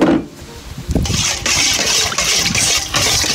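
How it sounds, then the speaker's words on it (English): Rice being rinsed in water in a kitchen, close-up sloshing and swirling with splashy, churning bursts repeated over a few seconds, no talk. "Rinse my rice about 2-3 times."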